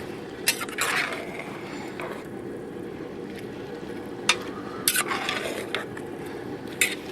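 A spoon stirs quartered baby eggplants into a pot of lentils, with scattered clinks and scrapes against the pot over a soft bubbling background.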